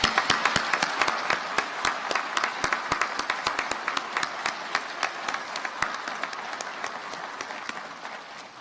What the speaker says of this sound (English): Please join me in a round of applause for your officer candidates.